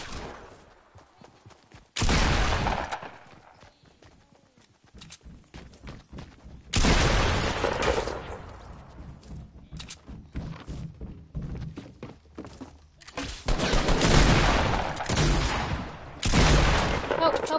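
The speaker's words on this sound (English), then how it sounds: "I have a minigun." A minigun firing in a video game, with long, dense bursts of rapid shots that start and stop abruptly, loud and close, separated by quieter stretches of thuds and movement.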